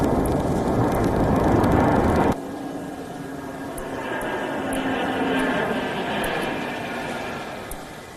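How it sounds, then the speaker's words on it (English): Red Arrows jets on a flypast over London and the Thames produce a broad, loud roar that cuts off abruptly, then a fainter, more distant engine rumble swells and fades, with speech mixed in. "The flypast was seen across London skies as the aircraft soared over the Thames"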